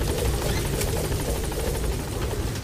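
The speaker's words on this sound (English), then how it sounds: "I'm just gonna jump the chopper." A helicopter in the video game Metal Gear Solid V: The Phantom Pain roars loud and close, its rotor beating steadily under a constant engine drone, with no speech.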